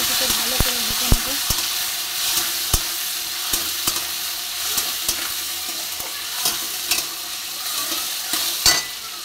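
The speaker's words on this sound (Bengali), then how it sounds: "অ্যাড করলাম টমেটো, পেঁয়াজ, আদা। কিছুটা ভালো করে ভেজে নেবো।" Tomato, onion, ginger and cashews frying in a pan over a gas flame, a steady hissing sizzle punctuated by repeated sharp clicks and knocks of a stirring spoon.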